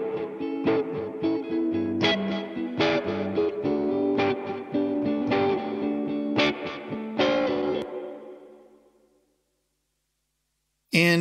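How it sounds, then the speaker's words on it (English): Clean electric guitar part from a mixed song, played with a light chorus, strums and picked chords ringing steadily for about eight seconds, then fading into silence before a brief loud burst at the very end. "There's like a clean guitar, sounds like this."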